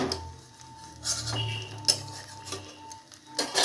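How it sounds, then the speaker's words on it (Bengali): A lid goes onto a cooking pan of banana-flower and coconut patori with a few close metallic clinks and knocks, scattered over a short stretch and ending in light rattles. "এবার আমি আবার ঢাকা দিয়ে দিচ্ছি"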